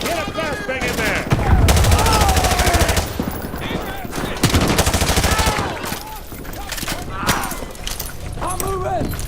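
Heavy gunfire in the Modern Warfare 2 video game during a firefight around a school: dense, rapid automatic bursts and single shots overlap continuously at close range, with shouted voices mixed in among the shooting.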